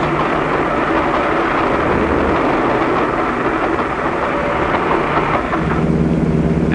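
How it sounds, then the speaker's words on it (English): A train rumbles steadily overhead as a bus passes through a highway underpass beneath the railroad, a loud continuous roar with dense low-end noise throughout, briefly dipping before building again near the end. "A train is coming."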